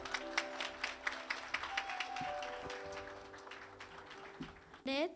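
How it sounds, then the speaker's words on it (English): Audience applause welcoming valedictorians at a Hindu school graduation ceremony in Tunapuna, a moderate patter of clapping under a sustained tonal drone and a voice speaking over it, ending with a brief burst of sound. "Please welcome them with a lusty round of applause."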